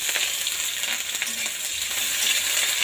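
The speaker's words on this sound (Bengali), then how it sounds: "তেজপাতা লঙ্কা দিয়ে দিলাম, ফোড়ন দিয়ে দিলাম, পেঁয়াজ কুচি" Bay leaf, chili and chopped onion fry in hot oil with a constant close, hissing sizzle and fine crackling, even and unbroken for a few seconds.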